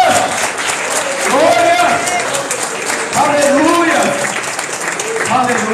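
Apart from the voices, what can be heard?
congregation applauding loudly in church service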